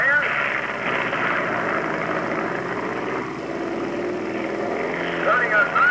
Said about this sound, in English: Watch that Chevy-powered motorcycle as he makes his way down to 1320.